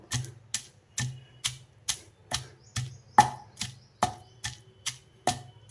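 Raw cumin seeds coarsely pounded in a traditional stone mortar, a steady series of about a dozen sharp, near knocks spaced roughly half a second apart, each ringing briefly before the next strike.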